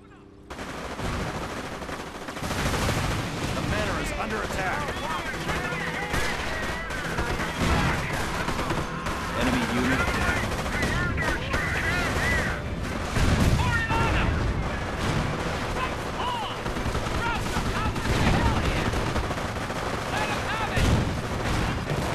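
Heavy, continuous machine-gun and artillery fire in the World War II strategy game Company of Heroes, a dense loud battlefield din with overlapping bursts and booms, and voices mixed in.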